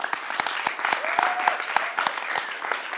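Audience at a live wine show with a guest claps in a quick, sharp burst of overlapping handclaps, close and fairly loud, with a voice briefly heard underneath.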